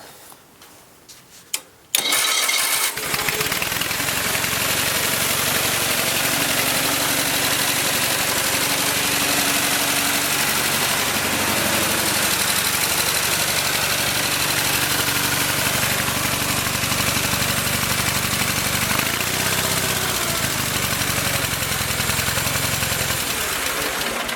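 A small two-cylinder air-cooled flat-twin engine on a 1973 Bolens HT18 garden tractor starts and settles into a steady, even idle, running loud and close for the rest of the clip.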